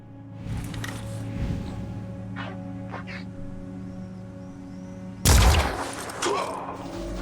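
Sniper fire in the turn-based video game Phoenix Point lands as a sudden loud shot with a heavy boom and rumbling tail, followed by a smaller second impact, over a low droning game ambience.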